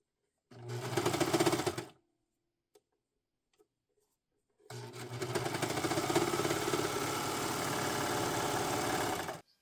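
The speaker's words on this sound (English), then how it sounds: "we're going back to the serger and we're going to attach this to the Dickey piece." Serger stitching knit fabric onto a turtleneck dickey piece, a short fast-humming burst, a pause with a few faint clicks, then a longer steady run of rapid mechanical stitching up close.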